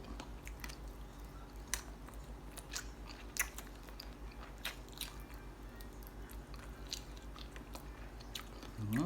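Close, quiet chewing of crunchy baked chicken feet in sauce, with scattered crisp crunches and wet bites, repeating irregularly over a steady low background hum.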